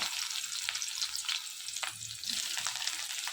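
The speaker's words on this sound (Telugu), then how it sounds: "ముందుగా ప్యాన్ పెట్టుకుని ఆయిల్ వేసుకుని అందులోనే ఉల్లిపాయలు పచ్చిమిర్చి వేసుకోవాలి" Onions and green chillies fry in hot oil in a pan for a bitter gourd fry, a continuous close hiss and crackle with faint stirring scrapes, steady throughout with no speech.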